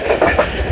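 Pakistan Express passenger train rolling along rails near Kaliyam Awan railway station, a loud steady rumble with rhythmic clattering of wheels over the track, with no voices.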